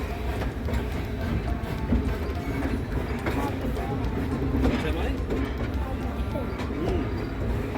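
The Cockle Train, a heritage steam locomotive on the Victor Harbor to Goolwa line, rumbles and chugs steadily from the front cabin, with rail clatter and faint bird calls in the background.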